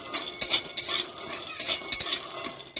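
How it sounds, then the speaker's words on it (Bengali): Peanuts stirred and fried in a hot kadai for a vegetarian peanut-and-eggplant dish, with repeated scraping and clattering strokes of a spoon against the pan over a soft sizzle, close and moderately loud. "এবারে বাদামগুলো এই কড়ার মধ্যে ঢেলে দেবো এবার দেখুন হালকা করে নেড়ে ছেড়ে আমি একটু ভেজে নেব"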